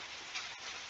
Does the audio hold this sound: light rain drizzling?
yes